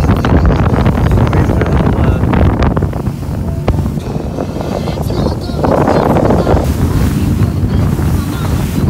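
A Donzi motorboat pounds across rough ocean water late in the afternoon, with loud, steady wind buffeting the microphone, engine drone and crashing spray filling the whole stretch without pause.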